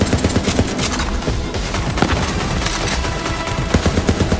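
Sustained rapid automatic gunfire in Borderlands 3, a loud continuous stream of shots with dense rhythmic bursts filling the whole stretch, no talking.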